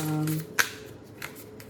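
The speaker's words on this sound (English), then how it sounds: "let's shuffle, get some cards here" A deck of tarot cards is shuffled by hand in a brief riffle with a sharp snap, heard up close after a person speaks.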